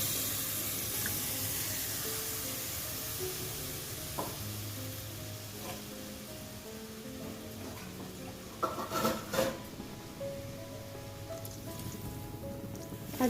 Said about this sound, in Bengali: অল্প পরিমাণে একটু জল দিয়ে দেবো, মিক্সির বাটিটা ধুয়ে